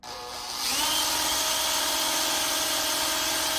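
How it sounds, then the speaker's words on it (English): A power drill chucked into a Honda speedometer cable whirs up to speed and holds a steady, loud, high-pitched spin with a constant mechanical whine. "we can see that the drill is chucked up into the back of the Speedo"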